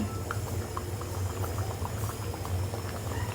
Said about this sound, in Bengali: এখন আমি সুন্দর করে তেল গরম দিয়ে দিয়েছি এর ভিতরে আমি আস্তে করে দিয়ে দিলাম